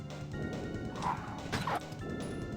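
Zombie dogs in Resident Evil: Deadly Silence bark in a couple of muffled bursts amid game music and a crashing impact, all at moderate volume.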